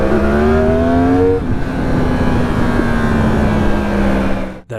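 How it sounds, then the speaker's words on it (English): A 2018 Yamaha R1 engine with an Akrapovic slip-on exhaust drones loud and close at steady revs, its pitch rising slightly then holding before a sharp cut near the end. "That engine just thumping underneath you. It sounds amazing."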